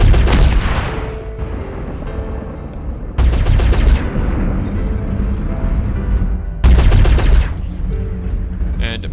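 Dragon 1G mech weapons fire in MechWarrior Online: three loud, close volleys, each a sharp booming blast that decays into a long rumbling tail, spaced a few seconds apart.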